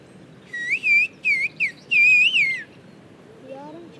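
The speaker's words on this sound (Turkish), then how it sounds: "Bak Türkçe kullanmıyorsun, sadece ıslıkla ne dediğini bilmesi için." A child whistles a sentence in the whistled form of Turkish, a series of clear, shrill, pitch-gliding phrases broken by short pauses, followed by a fainter answering whistle.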